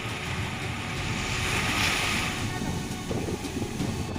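Fast, turbulent river water rushes and roars continuously during Cyclone Tauktae in Ullal, Mangalore, a dense, loud wash of flowing water and wind buffeting the microphone with no pause.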